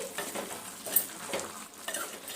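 Brinjal and dry prawn curry stirred in a pan with tomatoes and oil, a spoon scraping and swishing through the thick mixture in soft repeated strokes over a faint steady sizzle.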